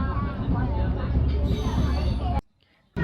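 Balurghat–Sealdah express train rumbles steadily along the track after leaving Balurghat, a continuous loud carriage roar with voices inside, cutting abruptly to near silence.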